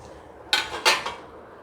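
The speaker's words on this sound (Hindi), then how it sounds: "और अब मैं डाल दूँगी इसमें ये जो हमने ड्राई फ्रूट्स रोस्ट किए थे वो सारे इसमें ऐड कर दूँगी" Roasted dry fruits drop into a pan of barfi mixture, making two sharp metallic clatters with a softer third knock, close and alone.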